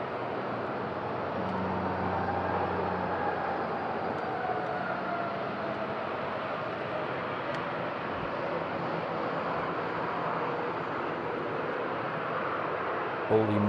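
TUI airliner taxiing at Madeira Airport on a windy day, its engines a continuous mid-distance rumble with a low droning tone that shifts slightly as it moves, under wind noise and no speech.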